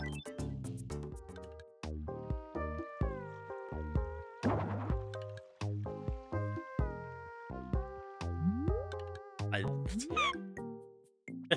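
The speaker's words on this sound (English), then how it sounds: "That is certainly a cat" A domestic cat meows repeatedly in short, close, rising and falling calls separated by brief pauses, with a voice talking over parts of it.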